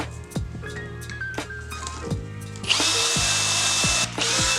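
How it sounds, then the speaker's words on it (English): A power drill with a titanium bit whirs in short bursts, then runs steadily at high speed, biting through a rug-tufting frame with a harsh, close grinding whine. "So now I'm going to drill through here, just like I did the first time."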